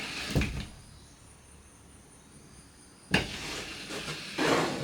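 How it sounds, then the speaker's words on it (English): Pocket door in a 2023 East to West Alta LE 1600 MRB travel trailer bathroom, two short sliding thuds and rattles separated by a quiet pause, close and fairly clear. "We have a pocket door that we can close for privacy."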